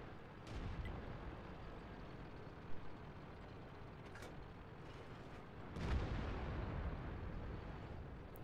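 Tank cannons firing in World of Tanks, with a KV-4 and an AMX 50 100 in battle: two loud, booming blasts stand out over a continuous rumbling engine and battlefield din.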